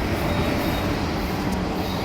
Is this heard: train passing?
yes